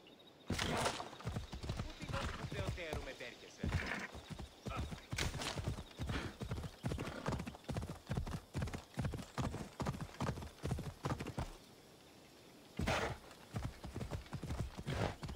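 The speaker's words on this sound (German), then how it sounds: "Pferd." Rapid, steady clip-clop of horse hooves trotting close by in Assassin's Creed Odyssey, with a horse whinnying now and then and a voice talking over parts.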